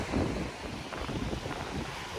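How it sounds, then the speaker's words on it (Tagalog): Strong wind gusts sweep Manila Bay's Dolomite sand beach during habagat monsoon rains and Typhoon Carina, a steady low roaring rush buffeting the microphone, with no voices. "biglang lumakas naman po ang hangin"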